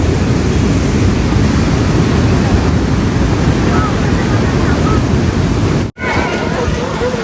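Water surges through Kallanai Dam in a loud, continuous broadband rush, close and unbroken, with a brief dropout near the end.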